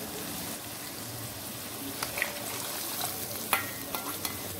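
A yogurt and spice masala mixture for kaleji is stirred with a spoon in a bowl, giving steady soft wet churning with a few light clicks against the container and no talk.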